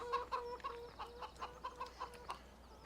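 Several hens in Farming Simulator 17 cluck in a steady, bouncy rhythm, moderately close and fairly quiet, with no talking.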